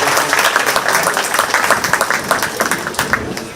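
Crowd applause at a 4-H/FFA goat show at the 2025 Shelby County Fair, a steady wash of many hands clapping close by for nearly four seconds, tapering slightly at the end.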